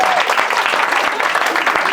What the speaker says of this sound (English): Round of applause for everybody meeting on Bumble